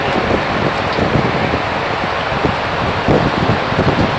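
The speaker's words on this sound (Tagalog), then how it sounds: "I'm walking there going home now it's raining" Steady rain falls outdoors under cloudy skies, a dense close hiss with scattered patter while someone walks home through it, with no talking.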